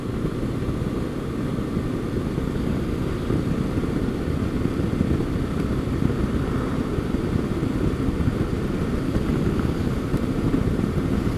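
A motorcycle fitted with a Givi bag on a pleasant evening ride, with a steady engine drone and heavy wind rumble running throughout at an even level.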